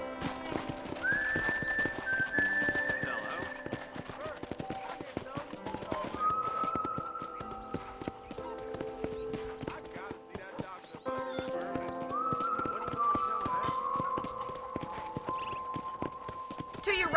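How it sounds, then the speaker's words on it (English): A horse is ridden in Red Dead Redemption, its hooves clip-clopping in a steady rhythm under a continuous game soundscape, with occasional drawn-out whinny-like tones. "let's see if you can still ride a horse"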